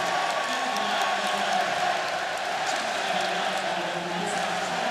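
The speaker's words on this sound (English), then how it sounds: "Crowd comes alive" A crowd at an ice hockey arena roars steadily after a power play goal, with cheering and whoops swelling through a packed venue at the world championship between Kazakhstan and Poland.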